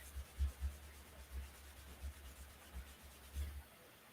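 Buffing transfer paste into a wooden haunted-house cutout by hand, a soft low rubbing that pulses in short irregular strokes, fairly quiet and close with no voices.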